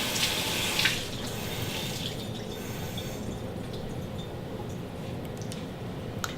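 Water runs from a kitchen tap for about a second at the start, then gives way to quieter kitchen sounds with faint clicks and taps.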